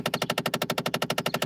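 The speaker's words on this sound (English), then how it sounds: "This is the sound of my actuator." A failing actuator in a car rattling off quick, evenly spaced clicks in a tight machine-gun-like rhythm, heard up close and alone.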